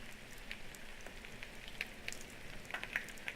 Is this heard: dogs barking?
no